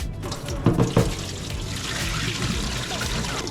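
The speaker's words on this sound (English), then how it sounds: "I saw hair in the water, so we're gonna rinse it just one more time" Tap water runs into a kitchen sink while food is rinsed, a steady splashing trickle with a couple of louder knocks and sloshes early on, close by.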